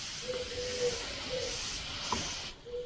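A steady, breathy hiss of fine spray runs throughout, with a faint tonal whine and brief pauses between bursts.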